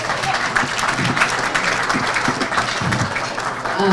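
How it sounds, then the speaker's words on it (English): Loud, sustained applause fills the room at a black-tie charity gala as the audience claps for itself, a dense steady wash with voices murmuring underneath. "I want you all to give yourselves a round of applause"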